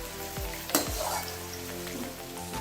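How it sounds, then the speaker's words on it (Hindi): Onions fry in a pan on high heat while a Bihari chicken karahi is being made. A close, steady sizzle runs throughout, broken by a few sharp stirring scrapes near the start. "अब हम प्याज फ्राई करेंगे।"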